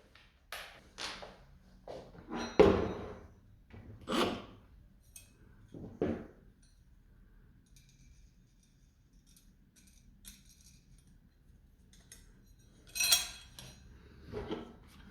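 Metal clinks and scrapes of a lock nut being threaded onto the landing gear of a Carbon Cub S2 light aircraft, sporadic close taps and rattles with quiet stretches between, no talking.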